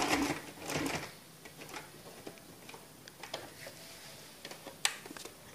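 A sewing machine stitching fabric, heard as faint, intermittent ticking and short mechanical bursts at close range, with quiet gaps between runs of stitches.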